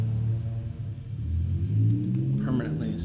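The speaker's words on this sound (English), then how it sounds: "Sorry about the road noise." Steady low road rumble from a moving car runs throughout, with the engine tone rising slightly, under a person talking.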